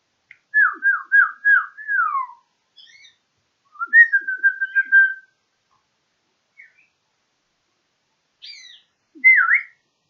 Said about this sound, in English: I didn't know you did wolf whistle.